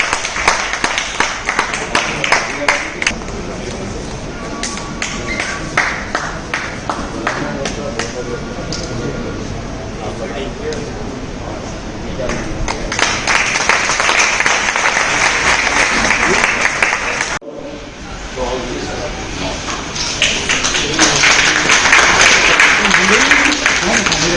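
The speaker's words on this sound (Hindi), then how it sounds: "एक बार जोरदार तालियों से उनका स्वागत" Audience applause welcoming guests onto the stage at a memorial ceremony honouring doctors, nurses and sanitation workers, long sustained clapping that swells louder near the end, with a brief break and voices mixed in.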